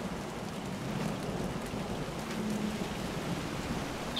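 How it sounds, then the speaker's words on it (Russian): Steady rain in the Montague's Mount video game patters evenly throughout, a soft continuous hiss of drops falling on surfaces with no voices. "Опять дождь пойдет."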